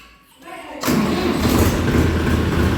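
A tractor engine on a cold night cranks briefly, then catches with a loud thump and runs at a heavy, rumbling idle close by.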